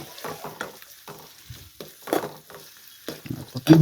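Onion, green chilli and curry leaves frying in a pan for egg rice, heard as intermittent sizzling bursts and stirring scrapes at close range, with quiet gaps between them and no talking.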